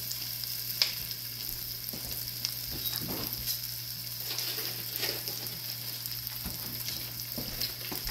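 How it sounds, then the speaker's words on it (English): Vegetables sautéing in a pan, a steady close sizzle with occasional stirring scrapes and clicks, continuous and moderately loud with no talk. "I'll saute those a little bit. So they're nice and soft."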